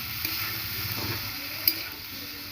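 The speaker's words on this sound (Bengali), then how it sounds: "এবার নেড়ে নেব।" Food frying in a pan while it is stirred after salt goes in, a steady close sizzle with soft scraping and one brief tick partway through.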